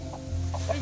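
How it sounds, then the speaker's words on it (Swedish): A rooster gives a few soft, short clucks over a low steady hum, quiet and close by. "Det är bara en tupp."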